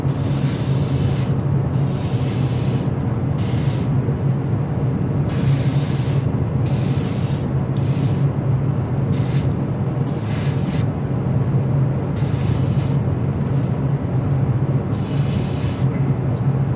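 An airbrush or spray gun paints a model ship's radar with a continuous close hiss, broken by short regular bursts of higher spray.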